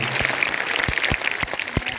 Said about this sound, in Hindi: और ताली बजाओ जोर से